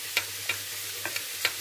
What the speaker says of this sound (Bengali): এবার এই চামচের পেছনটা দিয়ে এগুলো গুলিয়ে নেব।